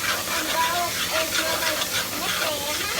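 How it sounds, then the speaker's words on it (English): Garlic sautéing in a pan for chickpea masala makes a steady, close hiss and sizzle that runs without a break, with faint voices in the background. "We are going to add garlic and saute for another minute."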